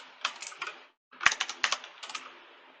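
Keystrokes on a computer keyboard as a command is typed into Windows 11 Home, two bursts of quick, close tapping separated by a brief pause, with a few harder key presses standing out.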